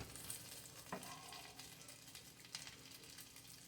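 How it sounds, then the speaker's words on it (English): Pork frying in a pan gives a steady, soft sizzle throughout, with an occasional clink of a utensil stirring, close and fairly quiet with no talking. "I'm just going to fry that a little bit."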